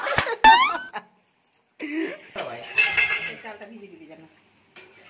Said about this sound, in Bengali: আর তার সঙ্গে আমাদের ম্যাডাম চিকেনটা কষছে